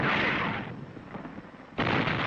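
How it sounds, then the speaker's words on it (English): Artillery bombarding the city of Naha during the Battle of Okinawa, a loud rumbling barrage that eases briefly and then surges back with another heavy roll of blasts, with no talk. "Artillery commenced to bombard the city,"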